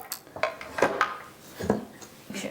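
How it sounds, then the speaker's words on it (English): A metal dough hook is fitted onto a stand mixer in a home kitchen while making pizza dough, giving several short metallic clanks and clicks spaced irregularly, close and moderately loud with no talking. "we're gonna add our dough hook onto our mixer"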